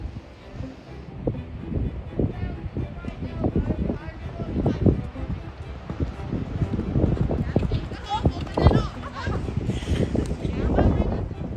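A young horse canters in a dressage arena, its hoofbeats thudding in a steady three-beat rhythm close by while someone talks over them.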